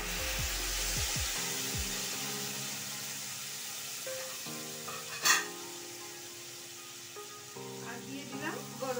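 Ground spice paste sizzles and hisses steadily in a hot frying pan while cooking a vegetable stem curry with lentil fritters. A continuous frying crackle plays under steady tonal sounds, with one brief sharper burst near the middle.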